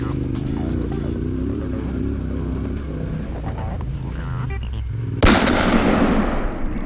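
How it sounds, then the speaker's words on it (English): A KTM 690 adventure motorcycle is ridden on an adventure ride, its engine a steady close drone with a rise in pitch, then a sharp loud burst of wind and engine noise near the end. "as I chased Anthony the Dingus on his KTM 690"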